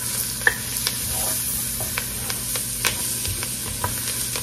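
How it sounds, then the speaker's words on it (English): Flour cooking in a pan for braised beef shanks, a steady sizzle broken by brief scraping stir strokes, close and alone with no talk. "we're going to let that flour cook just a minute"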